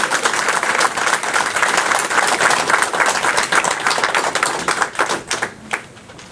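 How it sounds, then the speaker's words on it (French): Close, loud clapping from a small crowd at a public town meeting in Mercier, brisk individual claps that stay strong for several seconds before thinning out to a few scattered hands. "je vous invite à lui donner une bonne main d'applaudissement"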